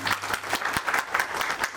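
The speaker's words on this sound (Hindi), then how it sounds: "एक बार ताली बजा के" An audience at a religious gathering applauds together, a moderately loud, continuous patter of many hands clapping with slight swells in intensity throughout.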